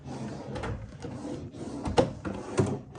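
A chest of drawers in a hotel room at the Beau Rivage Hotel & Casino Resort in Biloxi, Mississippi slides open and shut, giving soft wooden rumbles and a few light knocks at moderate distance.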